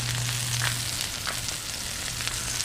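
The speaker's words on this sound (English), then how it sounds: "Here we got this one sizzling away." Burger patties sizzling on grill grates set over a flat-top griddle heated to about 400 degrees, a steady close crackling fry with no voices.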